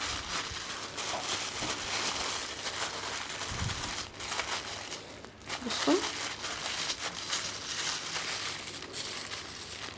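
Plastic bag crinkling and rustling as air is pressed out of it around stored taro, a continuous close handling sound with brief crackles, while someone speaks briefly.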